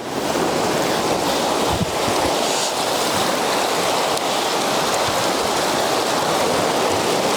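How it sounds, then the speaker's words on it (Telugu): Steady rushing water of a small waterfall at Kakolam Beach, Goa, fills the scene, a continuous broad splash and roar like a small cascade, with some wind noise and no voices. "mini water fall"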